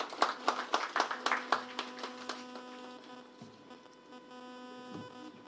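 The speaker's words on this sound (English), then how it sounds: "A round of applause for him, please." Applause from a conference audience at a Nigerian Exchange event greets the chief executive, a burst of dense clapping that thins out and fades within a few seconds over a steady electrical hum.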